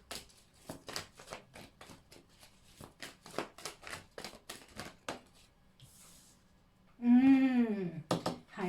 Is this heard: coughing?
no